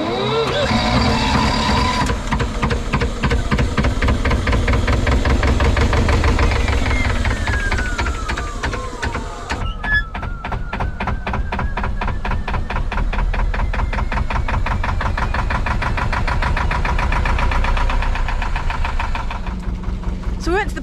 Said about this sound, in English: let's go and start this engine and continue on our adventure